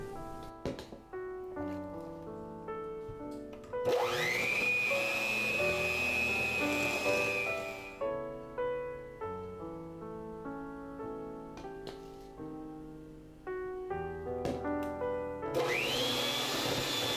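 An electric mixer whirs in bursts while powdered sugar is beaten into chocolate buttercream frosting, its motor whine starting and stopping between quieter stretches of kitchen clatter.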